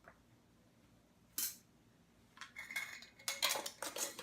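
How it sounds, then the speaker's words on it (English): Frozen berries are mushed down in a glass mason jar, a quiet start, then a sharp clink followed by a run of scraping, tapping and crunching of utensil on glass. "And you can just mush them down if you need to."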